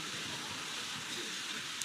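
Steady rain falling outside during a church convention, a dense even hiss of drops on surfaces, moderately quiet and continuous with no voices over it.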